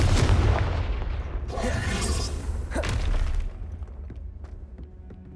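A Hogwarts Legacy Confringo fire spell explodes in a loud, crackling burst at the outset, followed by a second fiery crack and blast, then debris-like clinks trail off into quiet.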